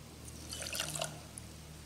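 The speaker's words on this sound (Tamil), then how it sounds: "இந்த ஒரு கப்பு ஜீனியை இப்போ நான் இந்த பாத்திரத்தில் போட்டு இதுக்கு வந்து அரை கப்பு தண்ணி ஊற்றி" Half a cup of water poured into a pan of sugar to make syrup: a soft, quiet trickle and splash lasting about half a second, close by, with no talking.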